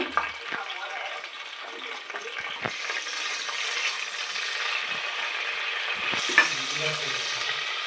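Cinnamon, cloves, bay leaf, cardamom and green chillies fry in hot oil for kushka rice, a close, steady sizzle with intermittent clinking stirs and a sharper scrape near the end.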